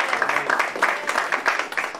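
A church congregation claps in fast, irregular bursts of moderate-volume applause lasting a couple of seconds.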